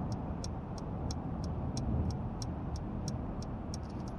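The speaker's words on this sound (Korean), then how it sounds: "우측 깜빡이" A car's right turn signal ticks in a steady, even rhythm of about a dozen crisp clicks inside the cabin, heard over the low hum of highway driving with no talking.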